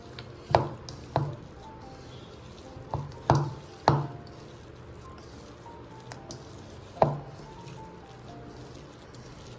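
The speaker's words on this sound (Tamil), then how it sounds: "ஆட் பண்ணிவிட்டு நல்லா மிக்ஸ் பண்ணிக்கலாம்." Chocolate chips being mixed into homemade cookie dough in a bowl: a series of soft, wet squishes and dull thuds come in irregular bursts, close and fairly quiet, with no talking.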